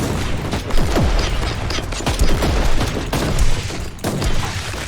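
Gunfire and booming explosions from the video game Warhammer 40,000: Inquisitor, loud, dense bursts of shots and impacts over a rumbling battle backdrop, with no talking.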